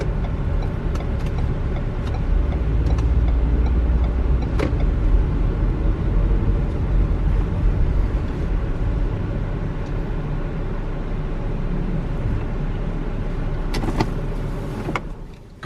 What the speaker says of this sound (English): let's go park the car here.